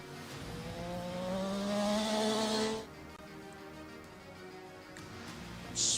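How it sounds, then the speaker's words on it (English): Sports touring motorcycles racing at the Katukurunda Circuit, one machine passing with a rising then falling engine whine that fades into distant track noise. "Sports touring motorcycles,"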